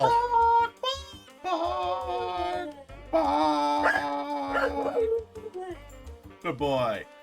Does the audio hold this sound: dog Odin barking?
yes